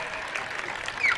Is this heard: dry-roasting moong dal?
no